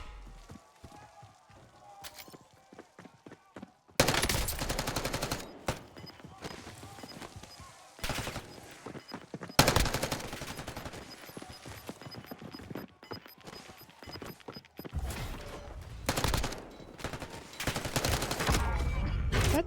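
Bursts of automatic gunfire from a Call of Duty multiplayer match come in loud, dense volleys separated by quieter stretches of footsteps and game ambience, with a player talking at times.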